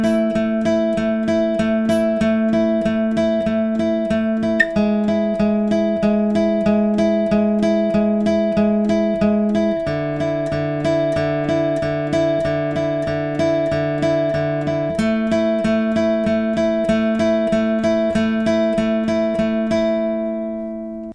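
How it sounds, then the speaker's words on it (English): Electric or acoustic guitar picking the verse riff of a song, a steady stream of evenly alternating plucked notes over a sustained low note, shifting chord shape every few seconds, played alone and clearly up close. "in total, the verse riff will just sound like this"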